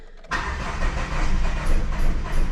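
An old Dodge Neon's engine cranks and catches after a brief silent lead-in, then settles into a rough, uneven idle while running on a single cylinder, loud and close with no talk over it.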